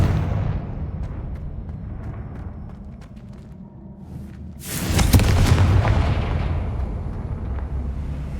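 A Confringo fire spell explodes in Hogwarts Legacy, a sudden booming burst rising out of a dense, rumbling game soundscape and trailing off into a sustained roar.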